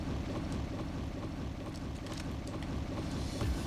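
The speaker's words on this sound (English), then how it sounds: "that boat noise is annoying me already" A steady, droning boat engine rumble in Payday 2's Train Heist runs unbroken throughout, low and constant, with faint clicks and a brief tonal blip near the end.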